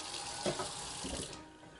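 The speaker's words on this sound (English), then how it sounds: "I just wash with water." A kitchen tap pours into a sink while broccoli is rinsed under the stream, making a close, steady splashing with a couple of louder gushes before it tails off.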